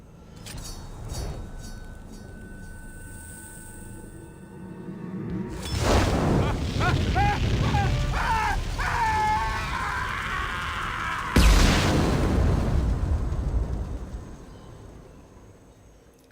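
A loud explosion in the video game Mass Effect 2 booms and rumbles with crackling debris, following a tense stretch and swelling again before fading out.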